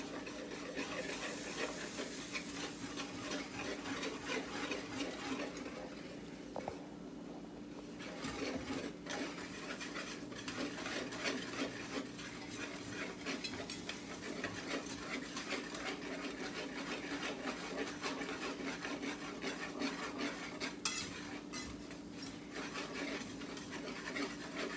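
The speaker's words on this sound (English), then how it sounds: "And then we're going to whisk it up." A whisk working a flour and butter mixture in a pan, a steady, rapid scraping and rattling rhythm that continues throughout at moderate, even loudness with brief pauses around the middle.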